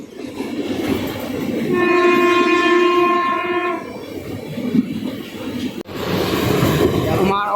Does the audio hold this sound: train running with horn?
yes